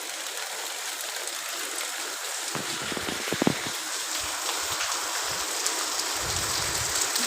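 Heavy rain falling steadily during a walk to a shop, a constant broad hiss with scattered nearby splashes and patters, moderately loud with no talking.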